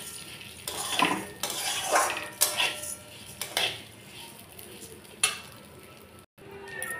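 Rice with whole spices being stirred in a pan for Basanti pulao, giving repeated scraping and clinking of a metal spoon against the pan over a soft sizzle, with no voices.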